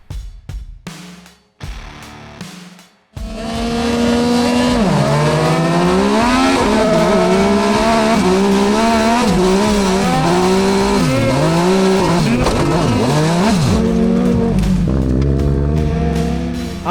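Crosscar race karts roar past at a championship heat, engines revving hard and continuous with squealing tyres, loud and close after a few brief bursts at the start.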